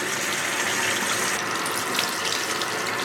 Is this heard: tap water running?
yes